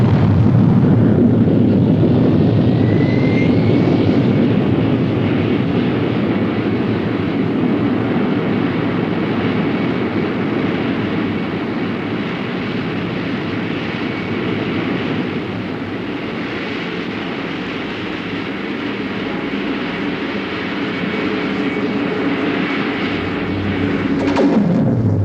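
Loud, sustained rocket-launch ignition roar for the Disneyland Flight to the Moon ride, a dense low rumble with crackling texture that holds steady for the whole stretch, heard alone without voices.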